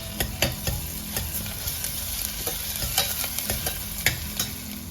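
Ginger, garlic and green chili fry in a pan for veg ghee biriyani, stirred with frequent quick scraping strokes over a quiet, steady sizzle.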